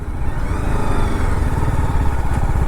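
A BMW G 310 RR motorcycle engine runs steadily and loudly on a test ride, a dense low rumble with faint clatter that holds even throughout, heard close and alone.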